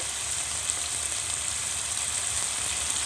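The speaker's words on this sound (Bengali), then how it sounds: "এখন আমি রসুনের সাথে ভালো করে ভেজে নেব মাংসটাকে" Cubed chicken breast fries with garlic in a hot pan, giving off a steady, close sizzle with no pauses and no voices.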